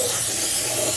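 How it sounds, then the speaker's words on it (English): A brief, continuous hiss of aerosol lanolin undercoating sprayed onto a car, loud and close, lasting about a second. "I basically spray it till it turns yellow"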